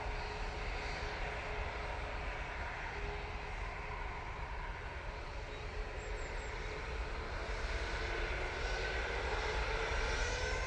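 Ryanair airliner departing Manchester Airport, its jet engines giving a steady, sustained roar that holds at a constant loudness throughout, with no voices over it.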